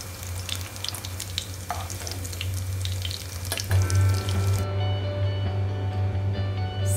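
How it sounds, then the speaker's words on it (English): Steady, continuous sizzling of soya pakoda frying in hot oil, with occasional clinks and a low hum underneath, no voices. "Now let them fry for a while."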